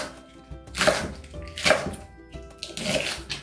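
Kitchen knife chopping seafood and tofu stew ingredients into thick pieces on a cutting board, a few separate soft thunking cuts spaced about a second apart, close and moderately quiet with no talking.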